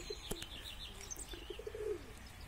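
Soft, low pigeon cooing, a short run of muffled coos rising toward the end, with faint chirps in a quiet outdoor background.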